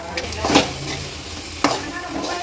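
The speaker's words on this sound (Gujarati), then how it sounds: "હવે આપણે આને આવી રીતના ફેરવે રાખશું એટલે આપણે જે દૂધનો પાવડર ઉમેર્યો છે તે ગાંઠા ન થાય અને એકદમ મિક્સ થઈ જાય" A spatula stirring lauki barfi mixture with milk powder in a pan makes soft scraping and shuffling sounds, with a couple of sharper strokes over a low, gentle sizzle.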